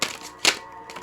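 A deck of cards being shuffled makes quick papery rattling bursts: a sharp riffle at the start, a louder one midway and a softer one at the end, all close and brief.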